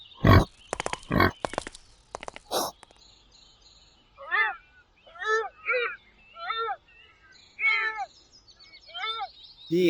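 A wild boar makes a series of short, squealing grunts in a loose rhythm, preceded by a few sharp knocks and thumps.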